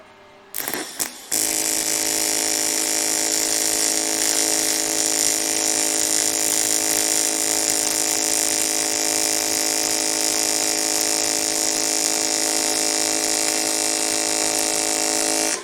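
A small electric grinder at a TIG welding bench spins up after a few brief taps and holds a steady, bright, high-pitched whine for over ten seconds, close and loud with no one talking.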